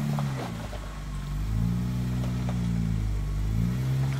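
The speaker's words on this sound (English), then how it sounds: "Give a little gas to get that tire up." A Jeep Rubicon on Mickey Thompson MTZ tires, crawling off-road in eastern Kentucky, gives a low, steady engine rumble that rises in pitch as the driver feeds it gas, holds, then eases slightly, close and continuous with no talking.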